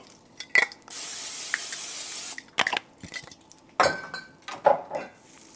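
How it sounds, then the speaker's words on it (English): Pam cooking spray hisses steadily onto a pan in a single burst of about a second and a half, surrounded by clinks and knocks of pans and utensils. "let me spray my pan with some Pam"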